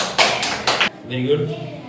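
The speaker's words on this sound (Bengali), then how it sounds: "সবাই হাততালি দাও।" Three sharp, loud hand claps from a group ring out in quick succession during a casual music lesson, then a voice starts talking.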